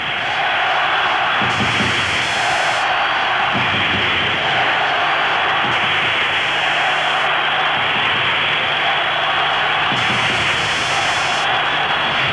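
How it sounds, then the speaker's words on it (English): A crowd fills a football stadium at the 1986 World Cup qualifier between Spain and Scotland, producing a steady broadband roar with occasional swells, heard alone without commentary. "Crowd reminding us again that they are in the stadium."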